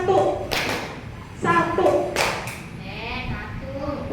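Group clapping in a clap-along ice breaker at a school gathering, with a few sharp, loud clap bursts in a rhythmic pattern, mixed with voices calling out and chanting.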